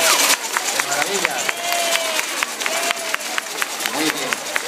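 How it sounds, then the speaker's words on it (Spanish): Crowd applause at a school event at Colegio San Agustín, steady rapid clapping from many hands carrying on throughout, with a voice calling out over it. "Un fuerte aplauso por todos."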